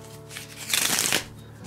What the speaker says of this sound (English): When it comes to riffle shuffle though